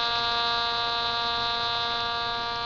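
A small AM radio is tuned to an empty spot on the dial beside a spinning magnet top on a single-coil circuit, giving a steady buzzing hum with a harmonic whine and no talking.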